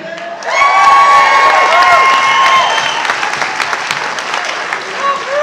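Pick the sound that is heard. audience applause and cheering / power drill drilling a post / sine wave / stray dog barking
audience applause and cheering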